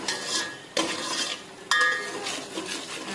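A spoon stirs a roti and buttermilk vegetable dish in a pan, scraping and clinking against the metal in a few distinct strokes, close and fairly loud, with light sizzling underneath.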